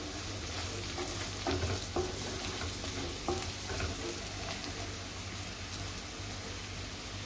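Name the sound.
stirring turmeric in hot oil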